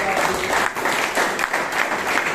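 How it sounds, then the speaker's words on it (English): A room full of people at a Toastmasters club meeting in Bangalore gives a round of applause, with dense, steady clapping that carries through the whole stretch and no talk over it. "can we have just round of applause?"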